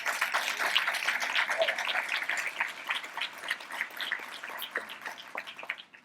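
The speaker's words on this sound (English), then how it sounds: "So if you could please join me in giving them a round of applause, please." An audience in an awards ceremony applauds staff members, a steady wash of clapping from many hands that holds for several seconds and then fades out.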